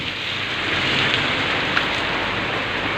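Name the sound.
heavy rain pouring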